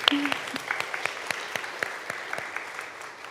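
An audience at a Lutheran school back-to-school night claps, sparse individual hand claps fading out over a few seconds, with a faint voice at the start.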